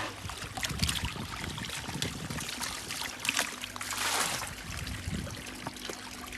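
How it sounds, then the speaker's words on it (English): Water splashes and trickles as a pond filter is given a quick rinse outdoors, a continuous close gush with uneven pouring surges and no talk. "quick rinse out"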